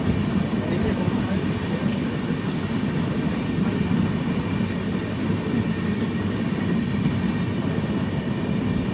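The Poorna Express stands at platform 2 of Payyanur station, its steady broadband rumble and hum continuous and close, with faint voices mixed into the station ambience.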